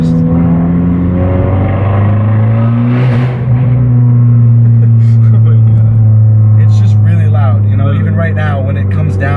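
A loud 2013 Abarth turbo car engine drones steadily at close range, rising and falling as it revs, with a brief whooshing blow-off burst partway through as it comes off boost and hissy chatter near the end.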